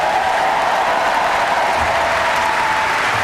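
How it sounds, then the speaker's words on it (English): A graduation commencement crowd in 2017 applauds loudly and continuously, a dense, steady wash of clapping with no pauses. "you got a big cheering section, so I want to hear it again"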